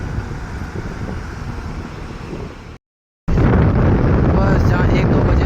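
Loud, steady wind in the Harsil valley buffeting the microphone with a deep rumble, broken by a brief silent gap before it resumes even stronger.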